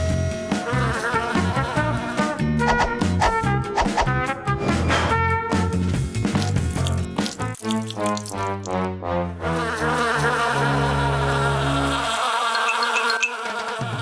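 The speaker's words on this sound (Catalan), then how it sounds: "Oh, no, no, abelles." Cartoon bees buzzing in dense, wavering insect drones layered over bright animated-show music, loud throughout and ending in a sustained buzzing tone.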